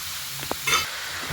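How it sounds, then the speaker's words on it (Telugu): Grated pumpkin fries briefly in ghee for halwa, giving a soft, low sizzle. A quick scrape and a clink of the stirring spoon sound close by. "ఇప్పుడు దీన్ని కొంచెం సేపు ఫ్రై చేసుకుందాం"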